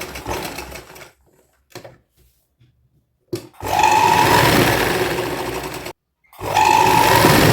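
Sewing machine stitching a fabric strip for a small girl's frock: loud, close, steady mechanical whirring in bursts, with pauses between runs and a final run at the end.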